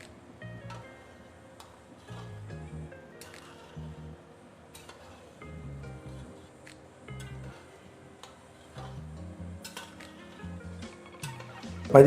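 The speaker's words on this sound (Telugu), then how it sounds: "అడుగు పట్టుకొని కలుపుకోవాలండి." About 30 kg of soaked rice for country chicken biryani is stirred from the bottom of a big pot, with repeated scraping and clinking strokes of a ladle against metal, close and quiet, in an uneven rhythm.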